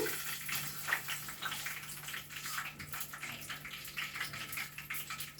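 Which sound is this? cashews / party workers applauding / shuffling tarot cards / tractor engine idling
cashews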